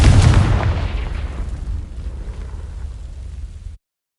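A Confringo fire spell in a wizarding video game lands with a loud, booming blast at the start, its rumble decaying over a few seconds before cutting to silence.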